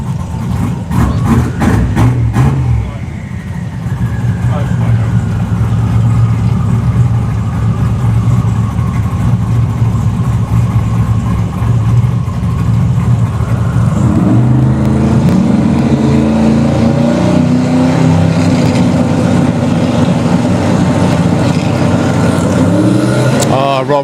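A 2500HP street car at a Santa Pod Raceway drag race sends out loud engine bursts and revs, then a sustained roar with rising pitch as the run goes on. A commentator talks over it.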